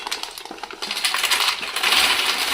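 Crunchy fried mathri pieces knocking and clinking together, a dense run of small bright clicks close by that grows busier and louder toward the end, with no speech.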